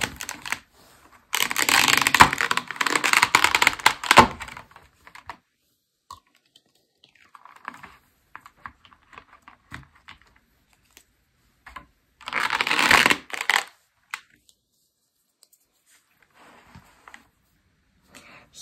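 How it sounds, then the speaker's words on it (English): Magnetic stickers for a children's activity book are pulled from their cardboard boxes, giving two bursts of crinkly rustling and scraping with scattered light clicks and handling noises between them, close by and with no talking. "Let's start by getting our magnetic stickers out of these boxes."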